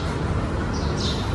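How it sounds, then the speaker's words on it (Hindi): Birds chirp faintly near Masjid Al Jorana in Makkah, giving a few thin, brief calls over a wash of outdoor background noise. "सुन रही है ना चिड़िया की आवाज़ है।"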